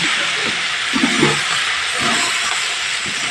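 Eggplant pieces fry in hot oil in a pan, giving a loud, steady hiss and sizzle with small pops and bubbling throughout, close up and uninterrupted.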